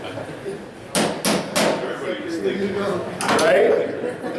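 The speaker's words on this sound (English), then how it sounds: "Push hard. Use your hammer." Sharp hammer blows on metal during disassembly of a Honda 6-speed transmission, three close, loud strikes in quick succession followed later by another cluster, with people talking around them.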